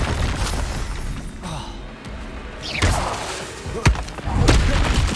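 Confringo spell blasts in Hogwarts Legacy land as repeated sharp booming bursts with whooshing tails, several impacts spread across a few seconds amid game combat noise.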